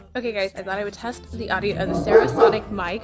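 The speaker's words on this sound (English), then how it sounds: "My neighbor's dog is barking" A neighbor's dog barks and yips repeatedly in a backyard, sounding moderately close, while someone talks over it the whole time.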